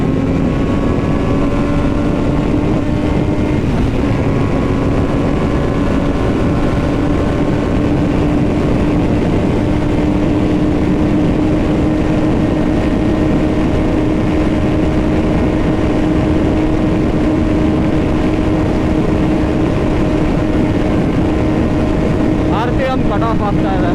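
Triumph Daytona 660 motorcycle accelerating hard toward top speed, a steady loud engine drone with rising tone and constant wind rush throughout, with no break between gears.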